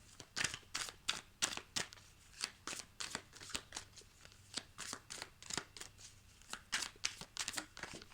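Tarot cards being shuffled by hand, a quick rhythmic series of crisp riffling bursts repeating roughly every half second, close and fairly quiet, with no talking.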